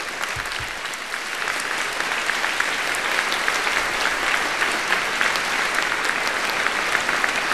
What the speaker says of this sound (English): give a round of applause for the program that you were about to see